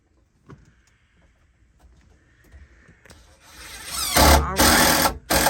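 A power drill drives deck screws into wood, a short whirring burst that rises and cuts off in two or three loud pulses near the end after quiet motor hum and faint tones.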